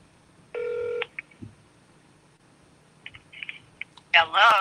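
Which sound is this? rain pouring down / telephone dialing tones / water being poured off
telephone dialing tones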